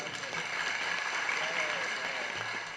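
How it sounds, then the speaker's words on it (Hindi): Lecture audience applauding in a continuous even wash of clapping, moderately loud and sustained, with faint voices underneath. "किसने कहा है ताली बजाओ?"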